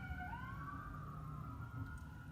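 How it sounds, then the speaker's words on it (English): A faint distant siren wails with rising and falling tones over low background rumble, steady throughout. "Sirens."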